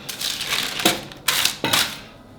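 Tortilla dough ball folded in parchment paper and pressed flat with a saucepan for nixtamalized corn taco tortillas; three distinct scraping, crunching presses in a row, close and fairly loud with no talk.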